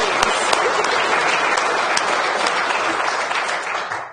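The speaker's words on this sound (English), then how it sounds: "can we just give a clap to the people who have been members of 20 years?" An audience at a talk on zero emission homes claps for twenty-year members, a dense, steady burst of applause at full volume that eases slightly near the end.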